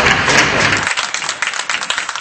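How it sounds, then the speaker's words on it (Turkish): A burst of scattered clapping and applause from a crowd in residential buildings, dense at first and then thinning into separate distant claps. "Bir dakika boyunca yurttan alkış sesleri, kornalar, ıslıklar yükseldi."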